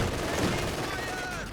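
A short burst of .50 cal machine gun fire in the Company of Heroes 2 real-time strategy game, a steady rattle under a commentator's voice.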